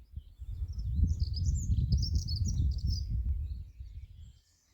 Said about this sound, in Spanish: Sin ruido de nadie, nada más que los pájaros.